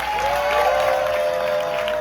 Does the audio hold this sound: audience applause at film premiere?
yes